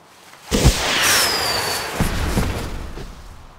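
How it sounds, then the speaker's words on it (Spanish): Fireworks go off in World of Warcraft, a sudden loud burst followed by crackling, sizzling sparks and a whistling streak, then a couple of softer thuds as the noise trails off. "Qué raro es matar a un dragón con fuegos artificiales."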